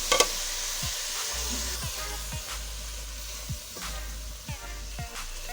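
Spices such as turmeric, crushed chili, ajwain, cumin, salt and red chili powder fry in hot oil for an aloo matar gajar dish, giving a steady close hiss broken by occasional soft stirring taps.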